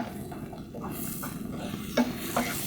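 Spicy noodles with turmeric powder and chili flakes being stirred in a pan, a steady soft scraping and sizzle with a couple of sharper clinks of the utensil near the end.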